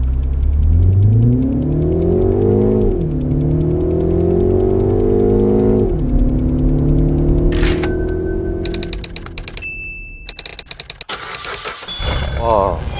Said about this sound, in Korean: 얘는 엔진이 있는 친구기 때문에 엔진을 켜야